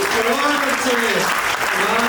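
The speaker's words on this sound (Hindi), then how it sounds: "ये क्वालिटी जरा तालियां एक बार बढ़िया वाली हो जाती है।" A crowd at a comic poetry gathering applauds in a dense, steady roar of clapping that runs throughout, with voices and cheering mixed in under it.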